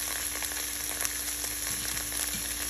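Ginger fries in a medium amount of oil, giving a steady, even sizzle and crackle throughout with faint stirring clicks close by.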